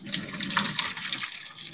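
Hot whey from making homemade ricotta splashes and trickles through a sieve in a kitchen, a brief continuous liquid pour, close and alone.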